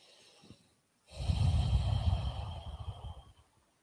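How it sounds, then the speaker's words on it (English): After a quiet moment, a single deep, close breath rushes out audibly, lasting about two seconds before fading. "Take a couple breaths here"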